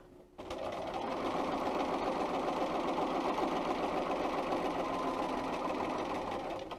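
A Bernina 802 sewing machine stitches a seam through fabric, its steady rapid needle chatter running continuously and close by for several seconds after a quiet start, with no one talking.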